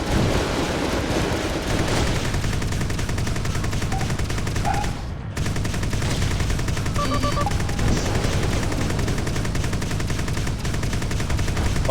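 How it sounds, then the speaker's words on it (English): Machine gun fire from a spaceship in Freelancer, a continuous loud rattling stream of rapid shots that cuts out briefly midway and then resumes with the same steady intensity. "we want to switch to our group that has both this and the machine guns"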